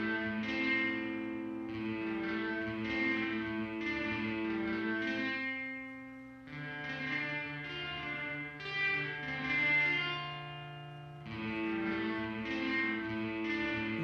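A Behringer DR600 digital reverb on its gated setting shapes a sustained distorted chordal tone that swells and cuts off abruptly in several blocks, with brief drops between phrases and no voices.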